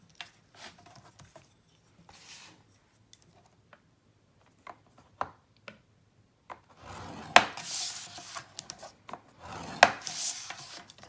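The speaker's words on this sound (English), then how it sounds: "I'm going to score it at 1 inch on all 4 sides" Chipboard cut to six by six inches gets scored one inch in on all four sides for a gift box lid, a quiet series of short scraping and tapping strokes, scattered at first, then denser, with no talk.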